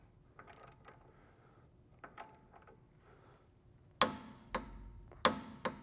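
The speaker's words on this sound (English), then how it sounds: "I'm going to put the pull jack under there and then run it up a little bit more" A floor jack is pumped up under the front suspension of a Tesla Model 3, with soft ratcheting clicks followed by several sharp, close metallic clanks.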